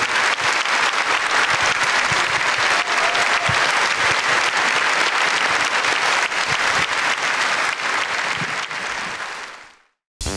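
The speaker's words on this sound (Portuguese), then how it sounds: "Uma grande salva de palmas a Jesus" A large church congregation gives a big round of applause during a Catholic mass, dense steady clapping throughout that cuts off abruptly near the end.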